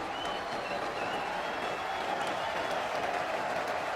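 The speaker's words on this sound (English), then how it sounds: "Getting some big applause as he made his way down to the ground, to the boundary there." A cricket crowd applauds the bowler McGrath as he walks to the boundary, a dense, steady wash of distant clapping from a large stadium audience, with no break across the whole stretch.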